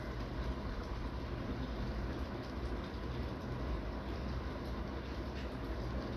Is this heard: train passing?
yes